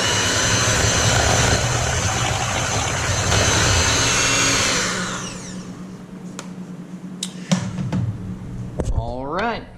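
An electric mixer whirs loudly and steadily through banana bread batter with walnuts for about five seconds, then winds down and stops, leaving quieter clicks and handling noises.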